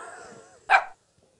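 A single short, sharp bark rings out after a stretch of low murmuring, then silence follows.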